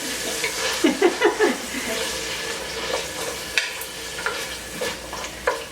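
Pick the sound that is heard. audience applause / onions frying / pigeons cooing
onions frying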